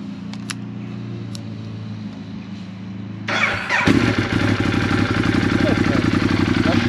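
A Ducati Monster 821 motorcycle engine cranks and fires up partway through after an oil and filter change, then settles into a loud, steady idle after a quiet stretch with a low hum.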